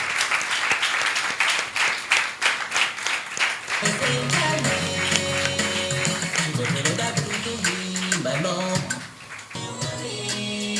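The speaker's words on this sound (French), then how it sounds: "Sous vos applaudissements, s'il vous plaît." A crowd applauds warmly to welcome a guest onstage at a French music-career event, loud dense clapping for about four seconds before music swells in and carries on beneath scattered claps.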